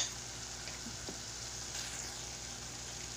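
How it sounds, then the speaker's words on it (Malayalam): Ingredients for a sardine curry (mathi curry) with turmeric powder sautéing in a pan, a soft steady sizzle and crackle throughout, faint and even, with no talking. "അതുവരെ നമുക്ക് ഇതും വഴറ്റി കൊടുക്കാം."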